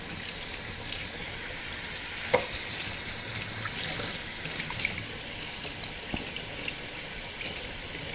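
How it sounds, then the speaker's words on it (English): Running water rinses raw wool during washing and scouring, a steady broadband hiss of flowing water lasting throughout, close and unbroken, with faint splashes and knocks and no talking. "rinse this out first, and you can use any temperature water that you want"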